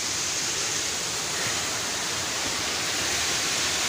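A waterfall on a hiking trail roars as a dense, steady rush of falling water, loud and close, filling the whole stretch with no talking.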